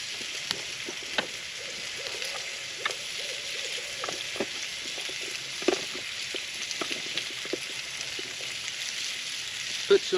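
Red-eyed hog meat fries in a cold-handled skillet over an outdoor bushcraft cooking setup in Alabama, giving a steady close sizzle with scattered pops and crackles. Brief faint speech sounds occur in places.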